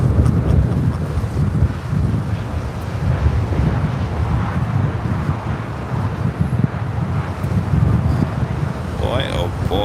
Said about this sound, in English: Wind is literally blowing the camera around.